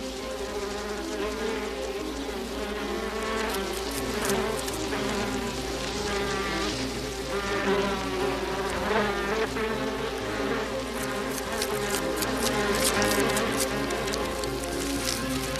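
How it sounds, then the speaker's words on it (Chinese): A swarm of bees makes a dense, continuous buzzing hum near a mountain cave, loud and unbroken throughout with no talking. "师傅，怎么突然飞来这么多蜜蜂啊？"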